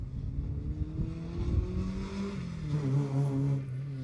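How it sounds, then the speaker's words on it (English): A Ford Escort rally car races past at the Jersey Rally, its engine note rising and falling as it accelerates through the gears, moderately distant and fairly quiet throughout. "Escort coming through."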